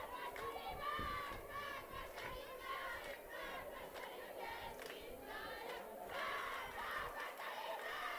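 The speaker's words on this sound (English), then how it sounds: "You can probably hear the girls in the dugout, the Cardinal girls, cheering on their junior pitcher, Mackenzie Steyer." Girls on a high school varsity softball team shout and cheer steadily from the dugout for their junior pitcher, a dense chorus of young voices lasting throughout at moderate distance.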